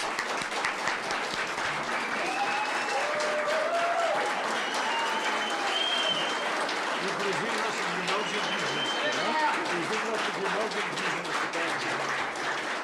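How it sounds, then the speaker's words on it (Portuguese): A crowd in the Brazilian Senate applauds loudly and continuously, dense clapping that holds steady throughout, with cheering voices and shouts rising over it. "Palmas para essas pessoas."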